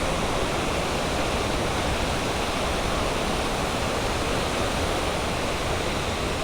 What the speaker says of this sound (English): they've got some kind of other spillway thing over there